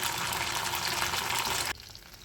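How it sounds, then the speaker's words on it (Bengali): Paneer sizzles loudly in a well-heated wok during shallow frying, a dense, steady crackle that cuts off abruptly, leaving a faint hiss behind. "এবার হালকা করে প্রথমে ভেজে তুলে রাখবো পনির ভাজার আগে কড়াই খুব ভালো করে গরম করে নিতে হবে"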